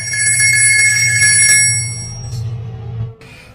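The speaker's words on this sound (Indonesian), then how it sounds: "telepon ibunya pun berdering dan si Charlie langsung menutup teleponnya." A telephone rings in a scene from the 2010 film Trust, a bright, repeated electronic tone that sounds loud and near, then fades and cuts off near the end.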